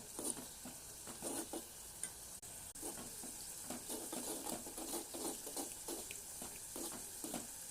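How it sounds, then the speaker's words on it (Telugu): Chili powder being stirred into gongura chicken curry in a pan, a soft continuous sizzle broken by regular rhythmic scraping strokes of the spoon, close and steady throughout. "మాడిపోకుండా తిప్పుకోవాలి."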